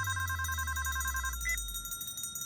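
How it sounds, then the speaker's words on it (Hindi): A mobile phone rings nearby in an indoor office, giving a steady electronic ringtone pattern that breaks off partway through, over a low background hum. "माँ का फोन आया, आवाज कहाँ से आ रही है?"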